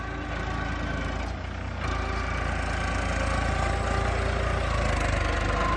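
A tractor engine idles loudly and close by, a steady low rumbling drone that holds throughout with no pauses and no talk over it.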